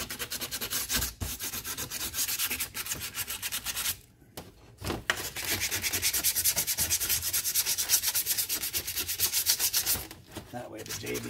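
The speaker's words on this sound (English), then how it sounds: "I'm going to take some of this 36 grit And then you just scratch it up really good." Coarse 36 grit sandpaper vigorously scratching up an aluminum or magnesium chainsaw part, a loud continuous rasping rub with short pauses between strokes.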